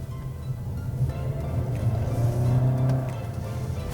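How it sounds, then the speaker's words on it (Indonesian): A Toyota Yaris Cross hybrid electric car accelerating while maneuvering, its engine a steady mid-level hum that swells gradually and rises in pitch, heard from inside without talk. "Mesinnya kencang banget cuy."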